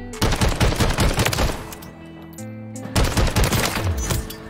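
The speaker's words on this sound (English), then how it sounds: "to go into the firing range, you're going to be able to see very quickly that it fires a lot faster than the MTZ Interceptor" A gun in the Warzone video game fires rapidly at training dummies in the firing range. Two loud, dense bursts of automatic fire are separated by a short pause, with no talking.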